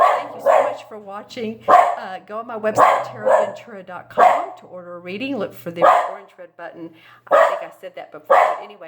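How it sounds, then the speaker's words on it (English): A dog barks intermittently in the background while someone talks continuously over it, the barks faint and partly buried under her voice. "Sorry, that's my dog."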